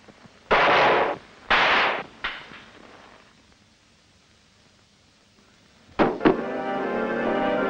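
Two loud, booming gunshots from a 1955 film ring out in quick succession, with a softer third report, then a quiet gap before a sharp clatter and ringing noise.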